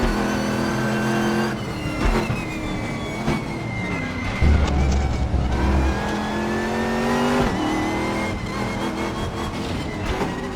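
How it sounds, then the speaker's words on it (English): Racing car engine in a sim racing game, loud and close, revving hard through rising and falling pitch sweeps with gear changes and brief drops, playing continuously without talk. "And listen to those engine notes"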